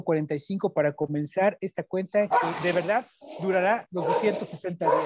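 A pet dog barks and yips repeatedly in the background while a person keeps talking over it.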